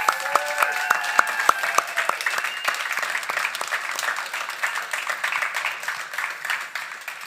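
An audience at a Kōkiri 2022 showcase applauds and cheers, with dense clapping that is loudest at first and gradually thins and fades across the clip.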